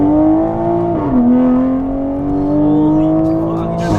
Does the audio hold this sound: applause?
no